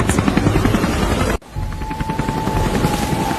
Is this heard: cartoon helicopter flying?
yes